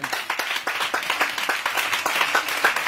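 Church congregation applauding together at a revival testimony service, a steady rhythmic patter of many hands clapping in a dense, continuous burst with no talk over it.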